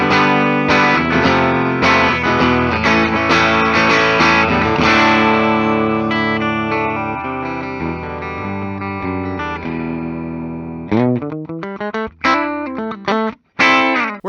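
A heavily distorted 2003 Gibson 50th Anniversary Corvette Double Cut electric guitar on its bridge pickup plays chugging chords and riffs that ring out and decay, followed by sharp, choppy muted strikes.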